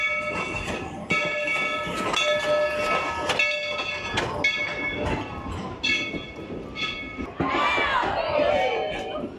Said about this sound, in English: But first we have to wait for the train to cross.